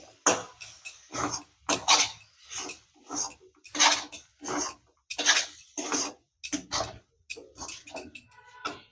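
A spoon stirs a spicy savoury pitha filling mixed with kasuri methi in a metal pan, producing about a dozen rhythmic scraping and clinking strokes, close and fairly loud, with short gaps between them and no talking.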